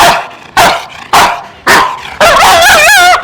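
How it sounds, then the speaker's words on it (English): A dog barks five times in quick succession, loud and close, the last bark stretching into a long wavering yelp or howl. "This dog is looking at me like I'm a big pork chop."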